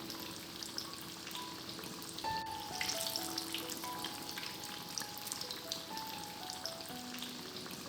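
Chilli bajji, batter-coated green chillies, fry in hot oil with a continuous dense bubbling sizzle, close and steady, with a slight swell midway and no talk.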